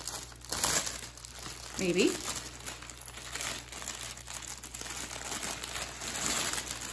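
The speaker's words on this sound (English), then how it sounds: "I'm gonna go ahead and take it out of the plastic" Close crinkling and rustling of plastic wrap with small snips and crackles, a soft voice speaking briefly.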